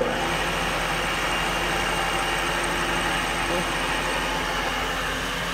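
Bridgeport vertical milling machine, 3/4 hp single phase with a 42-inch table, spindle motor running in reverse with a steady loud whirring drone that holds constant throughout.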